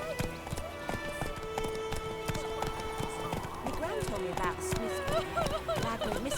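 Roach, Geralt's horse in The Witcher 3, gallops with steady clip-clop hoofbeats running throughout, under game music and voices talking.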